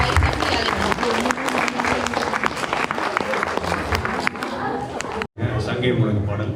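At a Tamil school event, a hall audience claps loudly and steadily to welcome performers, a dense wash of many hands with murmuring voices underneath, broken by a short dropout near the end.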